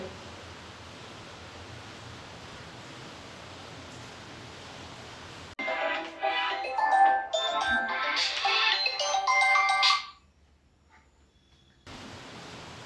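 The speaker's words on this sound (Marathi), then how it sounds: "ठीक आहे, मी त्यांना फोन लावते." After a stretch of steady hiss, an electronic phone ringtone plays loudly for about four seconds, then cuts off into near silence.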